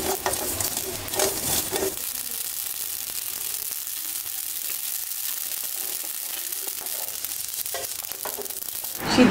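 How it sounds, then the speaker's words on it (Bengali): Mustard seeds and panch phoron frying in a pan crackle and sizzle with scattered pops and scraping stirs, louder at the start and then settling into a steady, close hiss with no talk. "সরিষা আর পাঁচফোড়ন ভাজবো"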